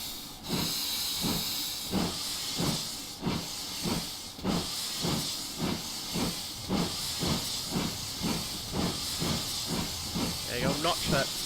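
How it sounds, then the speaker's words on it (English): Rhythmic steam locomotive chuffing from a video game simulation of GWR 6960 Raveningham Hall on the West Somerset Railway, with bursts of hissing steam, loud and steady, about two beats per second, with a brief whistle-like squeal near the end. "I'll do it on the steam engine, I say. God, listen to those lovely sounds this makes"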